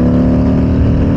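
Motorcycle fitted with a Zard exhaust pulling hard on a race track, a loud, steady, close engine drone with dense harmonics running through the whole brief moment, no talk over it.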